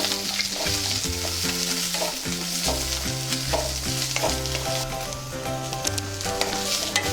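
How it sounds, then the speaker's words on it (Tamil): Onion, ginger and garlic sauté in a pan while being stirred, a steady sizzle with repeated scraping stirs, close and fairly loud, over a tonal musical backing. "வெங்காயம் ஒரு அளவுக்கு வதக்கியாச்சு"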